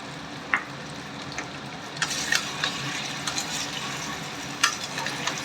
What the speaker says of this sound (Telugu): ఇలా అట్లకారతో కలుపుకోండి